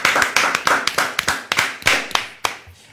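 A studio audience greets a guest with a short burst of bright, close clapping that comes in uneven loud hits and trails off into a few last claps.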